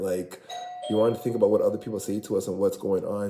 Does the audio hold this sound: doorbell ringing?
yes